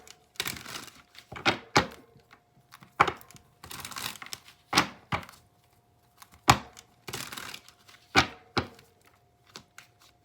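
Tarot cards being shuffled produce repeated crisp riffling bursts in an irregular rhythm, close up and fairly loud, with short quiet gaps between the shuffles.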